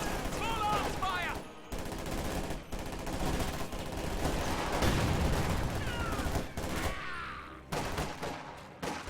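Dense rattling gunfire and bursts of machine-gun fire in a chaotic wargame battle, sustained and loud throughout with brief pauses, mixed with shouted voices.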